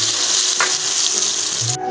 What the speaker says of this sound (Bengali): কাঁকরোলটা এখন আমি আলু ভাজা তেলে ভেজে নিচ্ছি।